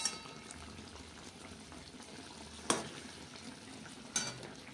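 Eggplant frying in a mustard paste curry gives a steady, soft sizzle close by, broken by a couple of sharp clacks from a stirring utensil.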